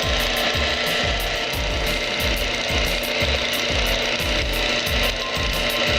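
A lubricity test machine grinds continuously while Mobil SHC 634 synthetic gear oil mixed with dirt churns inside, giving a loud, steady mechanical rattle with fast repeating ratchet-like clicks.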